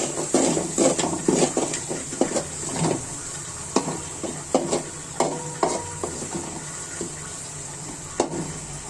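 Onion and garlic fry in hot oil in a pan, a constant low sizzle broken by repeated spatula scrapes and clacks in an uneven rhythm, close and moderately loud, with no talking.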